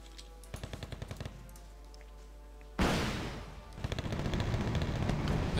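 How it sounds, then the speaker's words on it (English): A Wolverine tank destroyer in the game Wargame Red Dragon fires in salvos: a short burst of rapid cracks, then a loud boom with a decaying roar, followed by another steady run of quick shots, all loud and close. "now my Wolverine starts firing"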